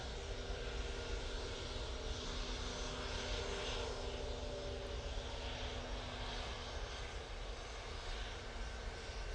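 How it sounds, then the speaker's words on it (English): TUI airliner at Manchester Airport, a steady distant jet engine roar that stays even throughout, faint and unaccompanied. "Sounds like that TUI's coming on now."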